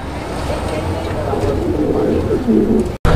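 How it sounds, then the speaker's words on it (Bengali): A pair of Soya Chandan pigeons at a pigeon sale coo in soft, low, rolling calls, close by, under steady talk and a rumbling background. "এটা হচ্ছে সোয়া চন্দন কবুতর একটা জোড়া"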